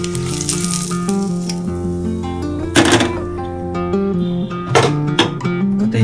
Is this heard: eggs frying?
yes